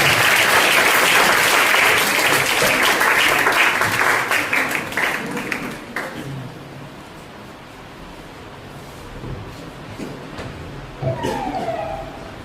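Loud crowd applause at a science festival, with dense clapping that fades after about six seconds, leaving quieter room noise and a brief burst of clapping near the end.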